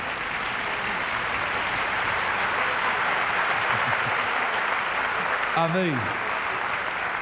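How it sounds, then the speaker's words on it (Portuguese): Church congregation clapping for Jesus at an evangelical service, a steady wash of applause throughout, with a voice calling out briefly near the end. "dê uma salva de palmas para Jesus"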